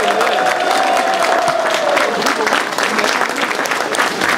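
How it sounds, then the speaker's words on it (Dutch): A crowd applauds and cheers at a women's cycling race podium ceremony in a village circuit event, steady and dense clapping throughout, with some voices mixed in. "Uw applaus voor die dappere strijdster, Emma Johansson!"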